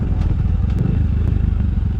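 A Honda Mio motorcycle engine runs close and loud, a steady low throbbing drone with light clattering on top.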